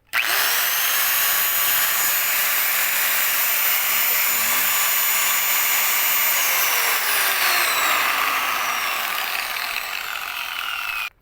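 A repaired electric angle grinder runs on test, a steady loud high-pitched whine holding throughout, then its pitch sags slightly toward the end as it spins down, with no talk over it.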